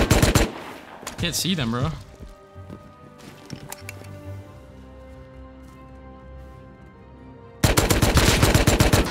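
Silenced AK rifle fire in the game Rust comes in rapid bursts at the start and again at the end, with scattered single shots between and a voice talking over the action.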